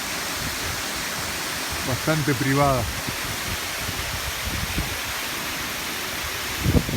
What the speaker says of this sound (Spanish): el famoso pozo del bacalao